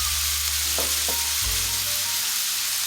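Chopped onion hits browning ground beef in a hot pan with a steady, loud sizzle, alongside a few scraping stirs and a low hum, all close up with no talking.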